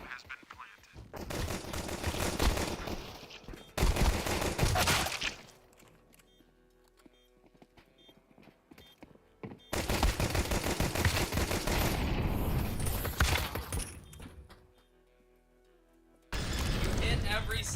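Gunfire in a Counter-Strike style shooter game: bursts of rapid automatic shots in several long volleys separated by quieter gaps, loud and close, with game voices and talk mixed in.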